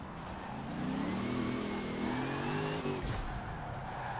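A Hot Wheels Bone Shaker hot rod engine in the video game Forza Horizon 4 revs on ice, rising and falling in pitch over several seconds, loud and close, ending with a brief thump and steady rumble.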